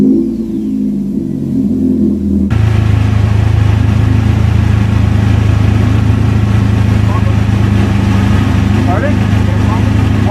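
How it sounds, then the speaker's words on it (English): A car's exhaust rumbles on Kauai, starting abruptly after a brief voice and then holding a loud, close, steady low drone like an idling or lightly revving engine. "I just want to show you the sound of the exhaust."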